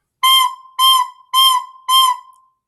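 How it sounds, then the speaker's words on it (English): A recorder is blown too hard, giving four loud, harsh overblown notes in a steady row, each bright and buzzy and heard close with no talking. "Now, if you play too hard, it's going to sound like this."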